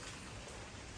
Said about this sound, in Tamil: ஸோ வீட்டில் மழை